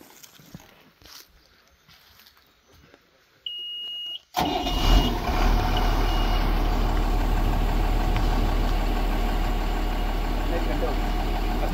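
A brand new machine engine cranks and catches after a quiet stretch with a brief tone, then settles into a loud, steady running rumble close by; voices talk faintly beforehand.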